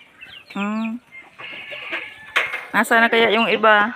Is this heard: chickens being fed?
yes